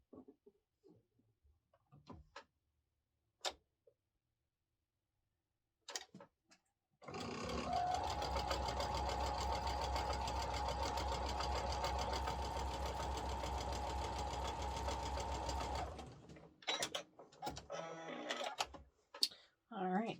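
Domestic sewing machine stitching cotton quilt pieces together, a steady continuous motor whir with rapid needle chatter running for about nine seconds, framed by brief handling clicks and fabric rustle before and after.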